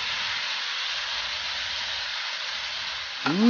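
Calamansi juice splashed into a pan of stir-frying June bug larvae in oil, a steady loud sizzling hiss that jumps into a brief burst of sharper spattering near the end.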